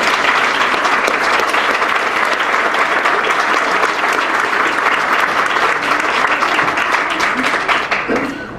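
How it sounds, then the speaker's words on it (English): A fundraiser breakfast audience gives a quick round of applause for the host church: loud, sustained crowd clapping that holds steady for several seconds, then tapers off at the end. "So if we get a quick round of applause for them."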